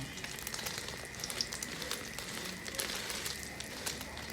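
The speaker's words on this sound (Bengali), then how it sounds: "অবশেষে ডিমটা ভাজলাম।" An egg frying in a pan gives a steady, soft crackling sizzle with scattered small pops and spits, fairly faint and continuous, with no talking.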